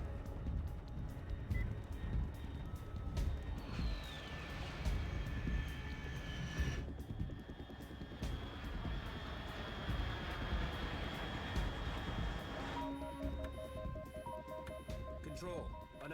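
An aircraft in Metal Gear Solid 3 drones steadily with a loud engine roar over a rumbling background, and a couple of tonal whines rise and shift. A voice talks over it throughout.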